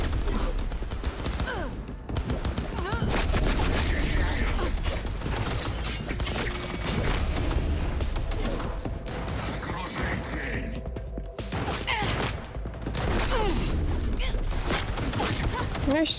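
Heavy, continuous gunfire from a big weapon in a video game roars loud and dense throughout, with mechanical clatter and crashes layered in.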